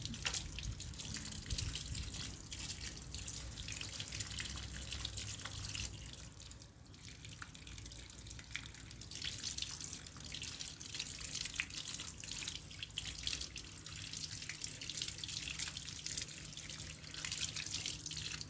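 Water runs continuously from a tap, splashing and trickling as it rinses pests off a coconut bonsai, a steady close wash with small drips and no voices.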